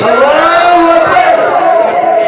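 A crowd at a religious gathering in Kolkata roars back in unison after a takbir call, a loud, sustained collective shout of many voices held for about two seconds.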